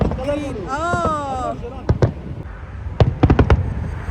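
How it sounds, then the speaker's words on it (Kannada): Fireworks for UAE National Day in Dubai, heard as a few loud separate bangs and crackles in the second half, after a voice speaks at the start and over a noisy outdoor crowd background. "ನ್ಯಾಷನಲ್ ಫ್ಲಾಗ್ ಉಂಟಲ್ಲ, ಅದರ ಕಲರ್ ಥೀಮ್ ಅಲ್ಲಿ ಪಟಾಕಿ ಸಹ ಬಿಡ್ತಿದ್ದಾರೆ."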